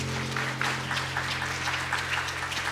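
Church congregation applause during a Sunday worship service, a steady round of many people clapping over a low sustained hum, even in loudness throughout.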